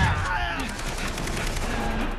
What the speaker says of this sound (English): I was trying to demonstrate the shotgun